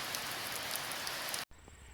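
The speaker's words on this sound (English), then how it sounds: "It'll rain like this" Rain pouring down at a cabin in July, a dense, steady hiss of drops close by that cuts off abruptly near the end, leaving quiet room tone.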